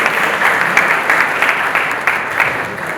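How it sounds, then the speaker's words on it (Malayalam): A crowd at a movie title launch for ROMCOM applauds steadily and loudly for a few seconds, dense clapping filling the room without pause. "നല്ലൊരു കൈയടി."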